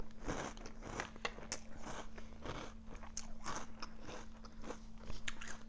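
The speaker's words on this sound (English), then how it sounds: "I was ready or preparing myself for the super crunch because, yeah, I had forgotten that Trix are extremely crunchy." Trix cereal with marshmallows is bitten and chewed close up, a dense run of loud crunches and crackles repeating rapidly for several seconds with no talking.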